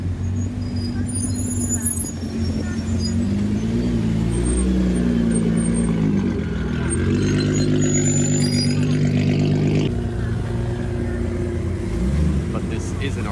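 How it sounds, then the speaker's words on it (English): A Nissan GT-R rolls into an outdoor Porsche car meet, its engine droning low and close with gentle throttle swells as it passes, over general crowd and traffic noise. "a very cool GTR just rolled in."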